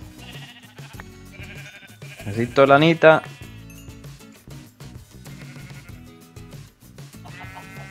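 Sheep bleat in the video game Minecraft, a short burst of several loud, wavering bleats in the middle, set against game background music, with someone talking before and after.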